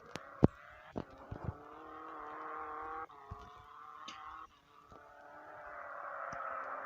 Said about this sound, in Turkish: Güzel bir drift.